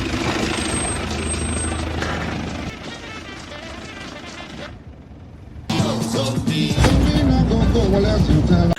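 A truck in a film scene rumbles along with a heavy low engine drone and road noise, dropping away briefly into near-quiet before returning louder and rougher, mixed with scene sound effects.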